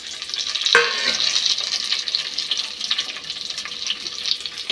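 Pumpkin pieces frying in hot oil with a steady bright sizzle throughout. A sharp clatter near the start comes as the pumpkin goes in, and the pan is stirred close up with no one speaking.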